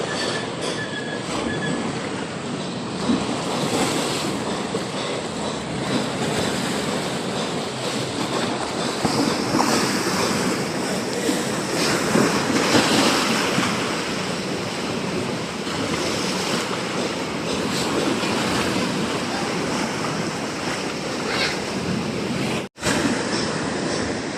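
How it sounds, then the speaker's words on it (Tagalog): Loud, continuous roar of heavy surf pounding and churning, broad and unbroken throughout, with no voices. "sa lakas ng alon"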